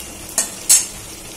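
Whole spices tempering in hot oil, a low steady sizzle broken by two quick, sharp metallic clinks of a utensil, close and clear.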